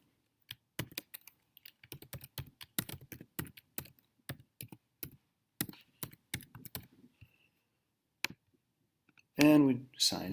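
Email and password being typed on a computer keyboard come through as bursts of close, crisp key clicks in irregular runs with short pauses, ending in a louder final clatter.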